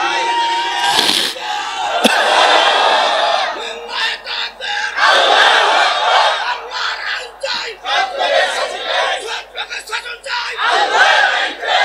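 A large crowd roars a loud collective chant of takbir at a religious sermon gathering, rising in bursts between shouts and claps.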